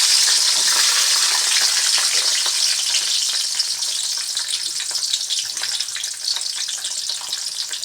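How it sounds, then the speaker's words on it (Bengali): Chilies tempered in hot oil for a Bengali cabbage chutney, giving a loud, steady, bright sizzle close by that holds for the whole stretch with no talk. "তার জন্য আমি লঙ্কা সম্বারা দিলাম"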